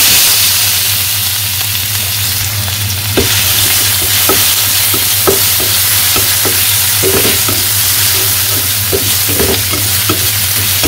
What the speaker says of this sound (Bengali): যে রসুন ভাজা হয়ে গেছে